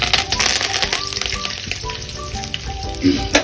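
Vada pav potato filling fries loudly in a pan while being stirred, a dense sizzle with scraping and clattering strokes from the spatula throughout, no talking.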